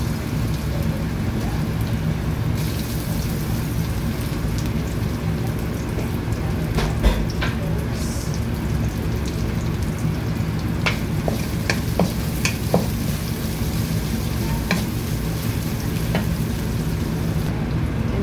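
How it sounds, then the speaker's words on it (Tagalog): Garlic, onion and ginger sauté in a little oil for stir-fried pork and leeks, a steady close sizzle with occasional scraping stirs and small clicks of a utensil against the pan, no voices. "Gisa natin to ang bawang sibuyas luya."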